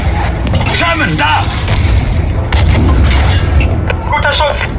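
Tank cannon fire booms in the Battlefield 5 video game, with heavy explosive blasts and rumbling battle noise under shouted voice chatter throughout.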